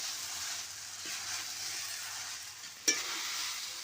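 Sabudana khichdi being stirred in a hot pan, a steady soft sizzle with scraping stir strokes and one sharp clink of the spoon near the end, close and alone.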